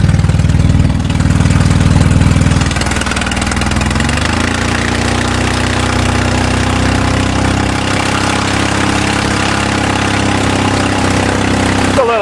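A rear-wheel-drive two-wheel-drive vehicle with meaty tires runs its engine in the snow, a steady close droning rumble that shifts pitch early on and then holds level throughout.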